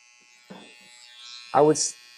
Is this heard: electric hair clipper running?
yes